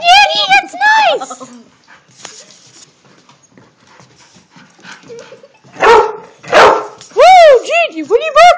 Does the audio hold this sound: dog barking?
yes